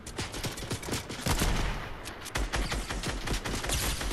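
Fortnite Battle Royale gunfire rattles in quick repeated bursts, fairly quiet overall, with a couple of heavier low thumps mixed in and no talk over it.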